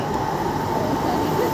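A train pulls into a London railway station with a loud, steady rumbling roar that fills the short moment, close and continuous.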